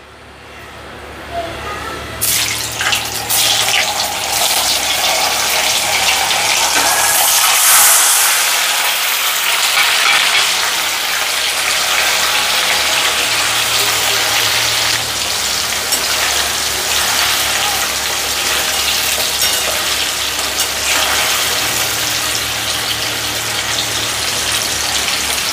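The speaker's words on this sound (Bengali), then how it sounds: "দিয়ে এবার পনিরগুলোকে আমি ফ্রাই করে নেবো আস্তে আস্তে।" Paneer frying slowly in mustard oil in a wok gives a steady, close sizzling hiss that rises after a couple of seconds and carries on evenly, with no talk over it.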